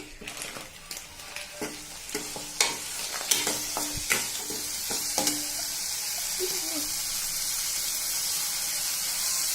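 A spoon stirs sambar powder into rasam in a pot, making a series of sharp metallic scrapes and clinks against a soft sizzle, then fading into a quieter steady hiss, with no talking.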